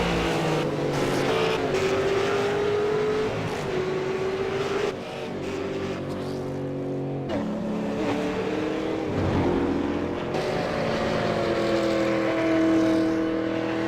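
V8 Supercar race cars lapping during qualifying in the iRacing sim, a continuous loud engine drone with rising and falling revs and gear shifts, several cars overlapping without pause.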